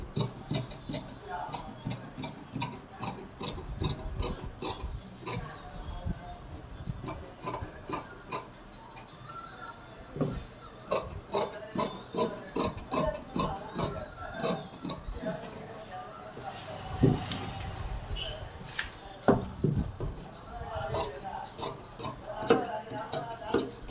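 Scissors cut blouse fabric in a long series of close, rhythmic snips, repeated sharp clicks of the blades with brief pauses and faint sounds of handling.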